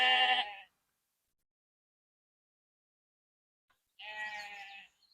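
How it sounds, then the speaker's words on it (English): Two bleats from little lambs on a rainy-season farm, each short and close, separated by a long silent gap, with no talking. "Couple of little lambs there."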